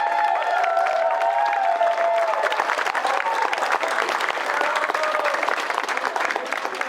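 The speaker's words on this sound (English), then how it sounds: "Let's have a round of applause." Outdoor crowd at a Juneteenth community celebration applauding steadily for several seconds, dense continuous clapping with a brief voice over the start.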